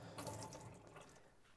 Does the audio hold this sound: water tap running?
yes